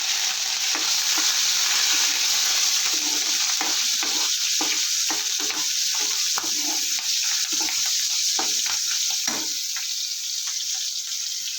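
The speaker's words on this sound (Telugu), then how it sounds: "ముందు పచ్చిమిర్చి ఇంగువ కొంచెం వేయించుకుని కరివేపాకు రెమ్మలు ఇలాగా వేసుకున్నాం" Green chillies, asafoetida and curry leaves fry in oil in a pan, giving a loud, continuous close-up sizzle broken by repeated scraping stirs. No one speaks.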